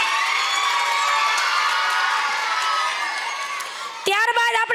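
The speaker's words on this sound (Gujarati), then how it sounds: "તાળીઓ ભાઈ, તાળીઓ પડવી જોઈએ." A crowd cheers and shouts at a school annual function, a loud, dense wash of voices, with children's shouts among them, that holds steady before a speaker's amplified voice cuts in near the end.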